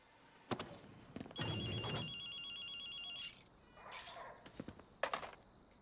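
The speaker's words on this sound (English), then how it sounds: "I do, in fact, hear a phone ringing." A telephone bell rings in Ghostwire: Tokyo, two bursts of bright electronic trilling, fairly quiet and separated by muffled thuds and ambient game noise.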